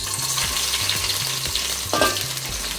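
Green chillies frying in oil with chana dal and urad dal over lowered flame, giving a continuous close sizzle and crackle with occasional stirring scrapes and low background hum.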